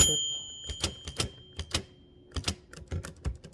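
Sharp keystrokes from a 1936 Klein-Urania typewriter in irregular bursts, with a clear, sustained metallic ding ringing out early as the margin bell sounds, close and crisp.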